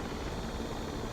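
A steady helicopter rotor roar with dense whooshing noise, continuous and fairly loud, no voices, from a Little Bird helicopter in the video game Broken Arrow.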